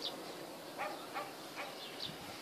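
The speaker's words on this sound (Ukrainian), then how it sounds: "Бо бджілок є багато." Bees buzzing around hives at an apiary, a soft steady hum with a few brief passes of individual insects flying close by.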